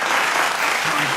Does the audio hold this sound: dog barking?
no